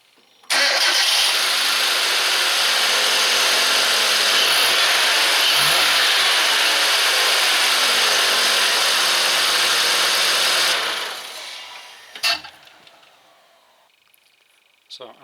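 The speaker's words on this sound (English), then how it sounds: "You can start the engine now." A car engine cranks and catches after spark plug and air filter replacement, then holds a loud steady running roar for about ten seconds before shutting off, followed by a few faint clicks.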